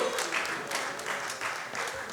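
Audience applause at a Congolese independence anniversary celebration held in Germany, a steady dense patter of many hands filling the room for about two seconds, with faint voices underneath.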